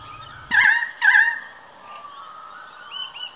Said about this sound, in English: The male cuckoos deliver their familiar piercing sounds during the day